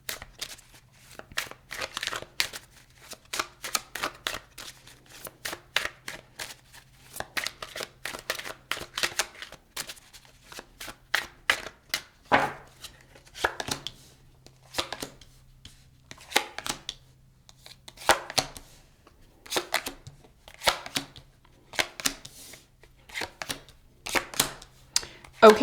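Tarot cards shuffled and dealt in a reading, giving a steady run of crisp riffling and slapping bursts with brief pauses between, close and fairly loud, with a faint low hum underneath.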